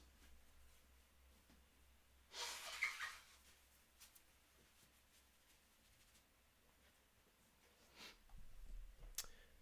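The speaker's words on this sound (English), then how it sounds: "Let me blow my nose because I have allergies." A short, breathy nose blow from allergies up close, followed later by a second, softer snort of air, in an otherwise quiet room.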